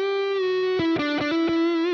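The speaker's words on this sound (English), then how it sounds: "Then rip through an arpeggio." Sustained distorted electric guitar note, then a quick arpeggio of rapidly picked distinct notes, played loud and close over a backing jam track; no talking.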